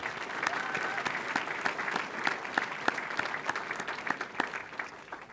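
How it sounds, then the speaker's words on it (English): Applause for mounted police riders at a police recruit graduation ceremony, a moderately distant crowd clapping with distinct individual claps standing out, steady and somewhat soft throughout. "they deserve their own special round of applause as well"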